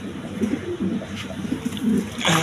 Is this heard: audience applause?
no